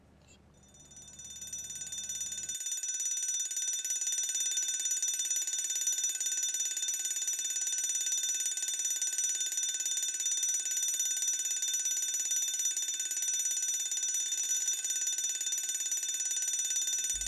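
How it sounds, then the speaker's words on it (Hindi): An alarm clock rings in a continuous, shrill, steady electronic tone that starts softly and holds loud for many seconds, alone with no talking. "अब अलार्म जगाने के लिए होता है, अब उठ गई हो तो इसको बंद कर दो ना अम्मा।"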